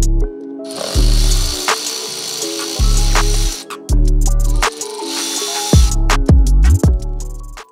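A ratchet spins out the bolts holding the front wheel liner of a Mercedes W212 E63 AMG, loud close clicking runs interrupted by bursts of sharper mechanical noise and pauses, with no talk.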